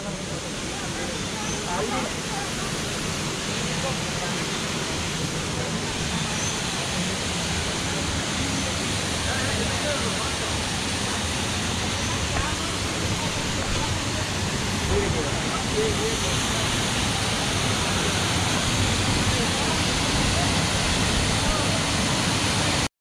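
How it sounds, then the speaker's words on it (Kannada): The Mookana Mane waterfall in Sakleshpur district gives a loud, dense, unbroken roar of rushing water that stays even from start to finish. "ಇದೆ ಮೂಕನ ಮನೆ ಫಾಲ್ಸ್"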